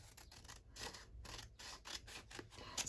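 Scissors snipping paper at a craft table for a weekly collage project, a run of short, crisp cuts in quick irregular rhythm, close and fairly quiet.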